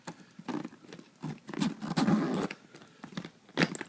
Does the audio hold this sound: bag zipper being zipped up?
yes